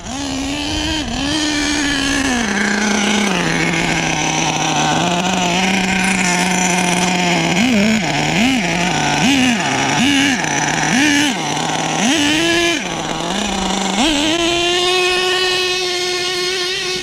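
The nitro engine of an HPI Savage XL K5.9 RC truck runs on grass outdoors, loud and near, with a buzzing whine that rises and dips repeatedly as the throttle is blipped, then holds a higher steady pitch.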